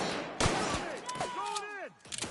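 Gunfire in The Outer Worlds video game, a few sharp shots and bursts with whooshing, sweeping effects in between, voices shouting over the action.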